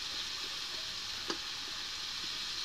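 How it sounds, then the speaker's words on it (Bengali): Potatoes frying on low heat in a pan for a Bengali bata fish dish give a steady, soft broadband sizzle throughout, with one brief sharper crackle partway through. "কম আঁচে ভাজবো, তাহলে আলুটা ভালোভাবে ভাজাবে"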